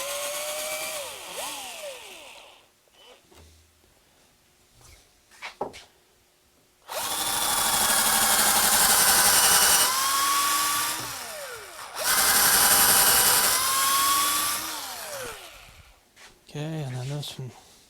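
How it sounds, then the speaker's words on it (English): A power drill pre-drills a thick piece of wood for a handmade ski chair. Two long, loud, whining drill runs are broken by short pauses and a voice talking. "so I have to pre-drill it"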